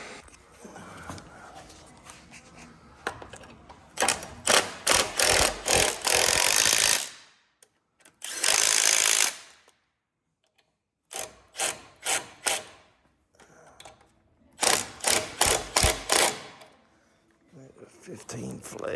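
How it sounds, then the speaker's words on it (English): A ratchet tightening the front differential bracket bolts on a 2014 Chevy Silverado 1500 4x4, in several loud bursts of rapid clicking separated by pauses, close by. "we're gonna get the rest of these bolts put in."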